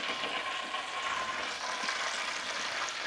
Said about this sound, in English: Oh, and you can hear the sizzle.